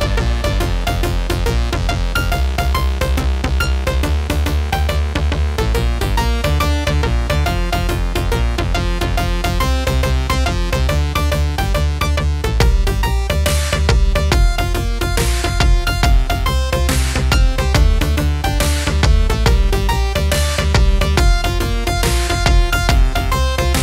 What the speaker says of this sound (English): So that is the Morpheus pad.